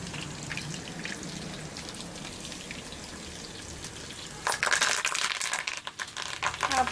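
Curry leaves frying in hot oil while making chicken 65, a steady close sizzle and crackle that bursts louder and sharper partway through as more spattering kicks up.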